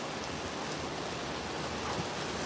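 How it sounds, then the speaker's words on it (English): Heavy rain pours down during a severe thunderstorm in Nashville under a tornado watch, a dense, even hiss of falling water that stays steady throughout with no voices over it. "Rain is starting to come down very heavy, as you can see."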